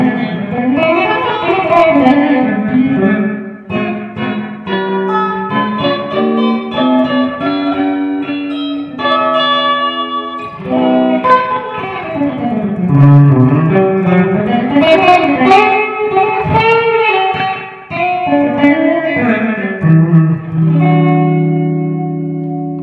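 An electric guitar played through a Tomsline Tube Pusher valve combo simulator pedal rings out alone for a steady stretch of chords and sliding melodic lines, with reverb and slight grit on a loud, continuous tone.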